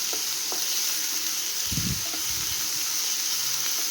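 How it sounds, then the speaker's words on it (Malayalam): Egg puff filling sizzles steadily in a pan, with a few soft, dull knocks and scrapes as it is stirred midway. "ഇളക്കി നന്നായിട്ട് യോജിപ്പിച്ച് ഒന്ന് വാടി കിട്ടണം"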